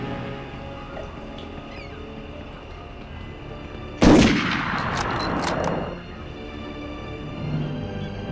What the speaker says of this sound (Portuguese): Sai dando tiro do nada aí